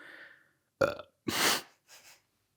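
A person burps several times, with distinct guttural bursts separated by silence, loud and close, the final one softer.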